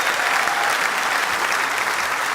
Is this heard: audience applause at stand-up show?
yes